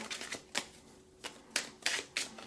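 Crisp bursts of tarot card shuffling, several quick riffles and snaps spaced irregularly, close and fairly quiet with no talking.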